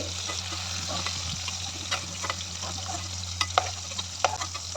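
Vegetables sizzle in a pan as they are stirred and fried, a soft continuous frying hiss with occasional clinks and scrapes of the spatula.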